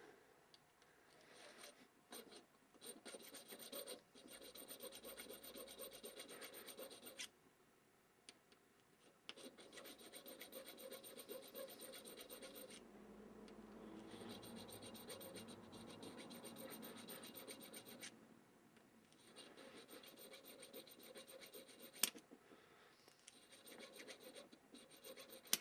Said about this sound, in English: Take a little 1/8 inch square file.